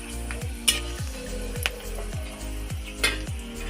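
Ash gourd sizzles and fries in hot oil with cut dried red chillies, a steady crackling hiss punctuated by repeated rhythmic scrapes and clinks of a spatula stirring against the pan.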